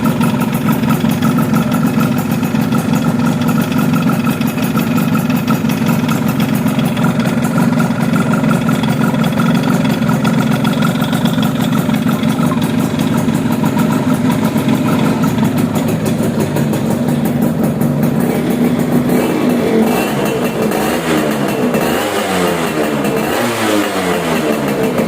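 A Yamaha F1ZR two-stroke motorcycle engine idles steadily and close by, a continuous buzzing drone with a brief throttle rise near the end, with no talk over it.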